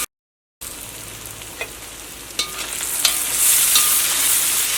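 Onions sautéing in a pan for a chicken roast, a steady sizzle that starts after a brief silence and builds in loudness, with a few stirring clicks and no talking.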